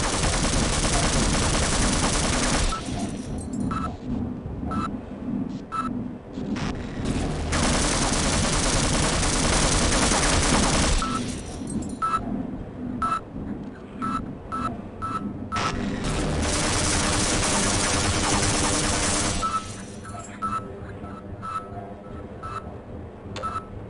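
Bursts of rapid automatic gunfire in the video game Half-Life rattle loudly in long volleys, broken by short gaps and scattered single shots.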